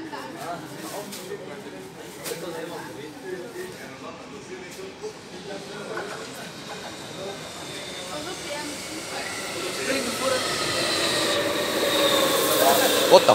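An Amsterdam metro train on line M53 rumbles along with a steady hiss and rising rail noise that grows louder toward the end, with voices talking over it.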